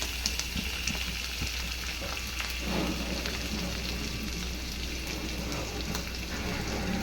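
Salted liver fries in a pan with browned onions, giving a dense, continuous crackling sizzle that holds steady and fairly loud throughout.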